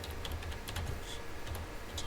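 Close, quiet typing on a computer keyboard, a quick uneven run of soft key clicks with no talking.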